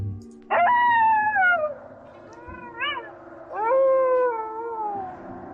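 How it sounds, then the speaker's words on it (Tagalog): Dogs howl outside a house in the night as a story sound effect. Long wavering howls rise and fall in two main bursts with a short yelp between, loud and close, with no one speaking. "Nakakakilabot naman pakinggan ng mga alulong nyo!"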